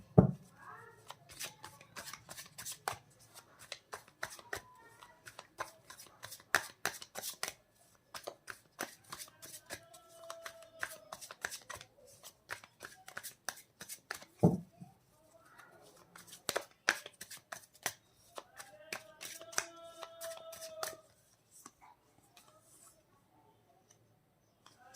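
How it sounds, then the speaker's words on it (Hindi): Tarot cards are shuffled by hand in repeated crisp riffling bursts and taps, close and fairly quiet, with a voice speaking softly in between. "तो अब मैं बात करती हूँ आपके साथ रीडिंग की।"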